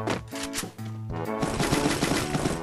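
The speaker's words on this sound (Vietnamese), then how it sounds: "Bên này bắn nhau hay gì cơ?" Rapid bursts of automatic gunfire in the mobile game Garena Free Fire, choppy rattling volleys that break off briefly and then resume in a dense, loud stream of shots.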